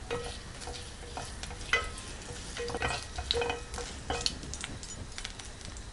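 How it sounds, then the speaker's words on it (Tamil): Mustard seeds, chana dal and urad dal sizzle in hot oil for a South Indian sundal tempering, a steady close crackle with scattered sharper pops and light stirring. "எண்ணெய் நல்லா காஞ்சதுக்கப்புறம் 1/4 டீஸ்பூன் அளவுக்கு கடுகு, கடலைப்பருப்பு, உளுத்தம்பருப்பு"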